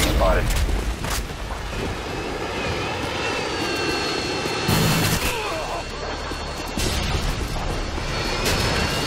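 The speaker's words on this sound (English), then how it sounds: "Friendly Harriers inbound." Harrier jets roaring in during a Call of Duty MW2 multiplayer team deathmatch on the Invasion map, a loud sustained jet engine rush with booming bursts and gunfire mixed in.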